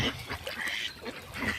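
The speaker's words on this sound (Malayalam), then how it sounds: "ഇതൊക്കെയാണ് നമ്മുടെ താറാവുകൾ ഗായ്സ്" Ducks kept on a farm, startled and scattering, give a quick run of rough, nasal quacks and honks that overlap at close range over about two seconds.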